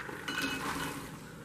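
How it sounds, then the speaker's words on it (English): Beans tipped into a crock pot for red beans: a short run of clinks and knocks against the pot, close and fairly loud, with no voice. "Okay, so here we're going to add the beans."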